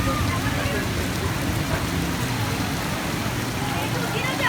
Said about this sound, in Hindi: ये देखें तेज़ बारिश हो गई है